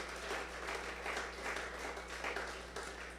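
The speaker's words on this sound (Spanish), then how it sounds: "démosle un aplauso también" A church congregation applauds at an anniversary service, a dense, steady patter of many hands clapping that rises and falls slightly, heard from within the room.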